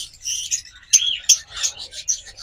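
A pair of pet lovebirds chirps in a cage, a steady stream of high, bright tweets and squawks with a few sharper, louder calls standing out, close by and with no talk over them.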